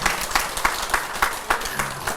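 An audience at a Buddhist monk's dharma lecture claps together in quick, fairly rhythmic bursts, loud and close, with no talking over it.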